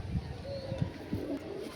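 A Malwai pigeon gives a few soft, low coos in short repeated phrases, close and fairly quiet, with faint background voices.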